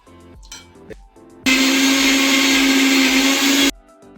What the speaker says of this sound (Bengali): এটা একটু দুধের সঙ্গে মিক্সিতে মেল্ট করব